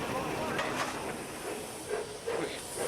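Steady hiss of steam from Southern Railway locomotive Clan Line 35028 working slowly through sharp curves near Dover, broadband and continuous, with faint voices under it.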